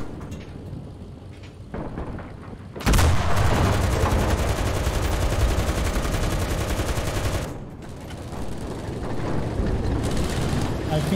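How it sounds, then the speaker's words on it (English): A T-34-85 tank fires in the Enlisted video game, producing a sudden loud boom that swells into several seconds of dense, roaring rumble before easing, over faint battle ambience. "Was that the T-34-85 shooting?"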